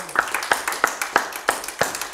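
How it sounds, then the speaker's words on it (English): A church congregation at Abundant Life Community Church claps in unison, sharp hand claps landing in an even, steady rhythm about three per second, fairly close and clear. "Give the Lord a hand clap."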